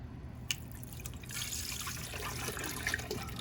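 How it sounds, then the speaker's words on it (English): Water is poured off drying aquatic plants, a soft continuous trickle and splash that starts after a brief drip and carries on steadily at moderate loudness, with no talking. "I'm going to do one method, which is just to kind of pour the water away."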